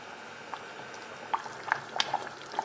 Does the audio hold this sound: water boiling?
yes